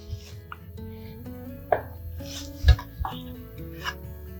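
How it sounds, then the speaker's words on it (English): A knife cutting a block of feta cheese into cubes on a board, a few soft, scattered taps and thuds with gentle rubbing between them, close and fairly quiet over faint background hum. "I've got some feta cheese here, which I'm going to just cut them into cubes"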